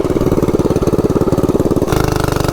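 A Baja Warrior minibike engine runs with no straight chain and no torque converter, a loud, close, steady small-engine putter whose pitch and tone shift slightly near the end.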